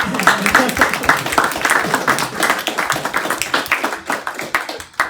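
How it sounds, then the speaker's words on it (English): Audience at a tech presentation clapping in a dense, lively burst, close and loud, with some voices mixed in throughout. "How about a round of applause?"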